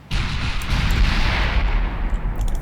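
Heavy naval guns boom in the Ultimate Admiral Dreadnoughts game, a loud, close, rumbling blast rolling on for about two seconds, then a sharp follow-up report at the end.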